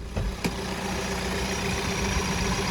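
A 2017 Kia Ceed 1.6 diesel engine idling steadily and evenly, a low continuous rumble close by with a faint ticking, no other sounds.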